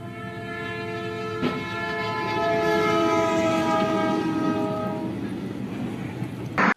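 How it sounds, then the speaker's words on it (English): A train rumbles closer along the tracks while its horn blares in long sustained tones, ending with a sharp clatter. "Once a train is in motion, stopping it isn't easy."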